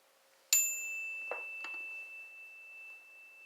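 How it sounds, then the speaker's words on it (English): A metal solar plexus bell is struck once, giving a sharp bright strike that rings on with a long, pure sustained tone slowly fading over several seconds, with a couple of faint soft knocks after the strike and no talk. "Let me hit the solar plexus bell."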